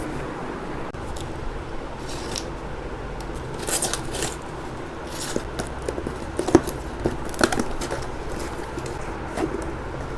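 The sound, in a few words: unboxing Hollyland Lark M2 microphone box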